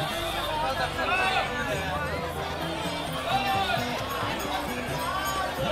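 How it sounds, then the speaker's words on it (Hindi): Large Sunday gathering of devotees at Daan Ghati temple, Govardhan, producing a continuous hubbub of many voices and shuffling activity nearby, with a few voices rising above the babble. "ये देखिए संडे है आज तो भीड़ श्रद्धालुओं की भीड़ बहुत है।"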